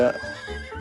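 A horse in the video game Free Fire gives a single short whinny, loud and close, lasting under a second.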